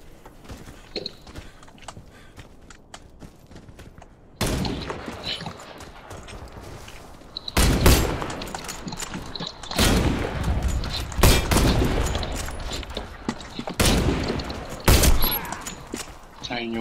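Gunfire from a video game duel, with several loud broadband bursts of shots in the second half after a quieter stretch, each burst separated by brief pauses.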